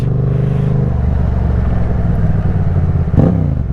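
A Yamaha MT-07 motorcycle idles with a steady low engine rumble, then briefly blips the throttle near the end, close and loud with no talking.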